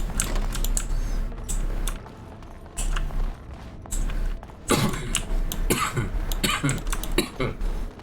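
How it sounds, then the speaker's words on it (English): Someone coughs repeatedly and clears their throat close to a microphone while gaming, over steady keyboard typing and clicking. "I'm sorry for all the coughing."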